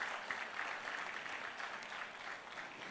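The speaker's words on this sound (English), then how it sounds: "You can clap a little bit." A studio audience at a radio station launch event for a new Nissan claps steadily throughout, a dense, continuous wash of applause at moderate loudness with no break.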